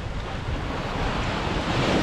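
Waves from the Pacific Ocean wash onto the shore during fishing, making a steady broadband roar of surf mixed with wind buffeting the microphone, with no voices.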